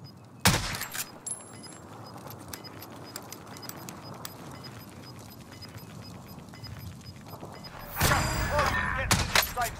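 Sharp bursts of gunfire in a video game: a loud crack at the start, then a quieter stretch of ambient noise before a heavier cluster of rapid shots near the end, close and harsh.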